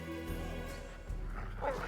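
Several dogs bark and yip in a turn-based battle in the fantasy role-playing game Pathfinder: Kingmaker, a steady, close cluster of barks over low game music.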